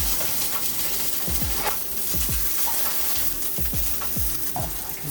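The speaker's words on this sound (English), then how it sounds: "Let's add some oil to our hot pan." Oil sizzling loudly in a hot pan for chickpea fritters, a continuous dense crackle close up, with repeated low knocks and scrapes of the pan on the stove.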